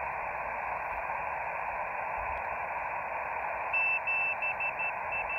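Amateur radio signal received on an FT-817ND transceiver in the field, a steady hiss of band noise with a faint tone that appears briefly near the end, continuous and moderately quiet.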